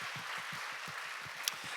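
A church youth service audience applauds together, a steady wash of clapping that holds at an even level throughout, with a soft low rhythmic thumping underneath.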